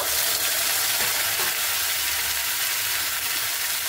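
Masala paste is added to onions already fried red in a pan, and a loud, dense sizzle and hiss fills the space close by, steady throughout with no talking.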